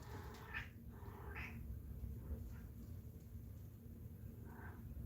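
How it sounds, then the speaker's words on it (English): A female cat in heat lets out drawn-out yowling meows, three or four calls spread over a steady low rumbling background, moderately loud with no talk. "My cat is in heat."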